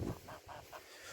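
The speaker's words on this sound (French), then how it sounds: "On va passer direct à mes oies." Farm geese out on a large grassy pasture give a few short, nasal honks spaced through a brief moment, fairly faint and somewhat distant, with a louder low thump at the start and no talking.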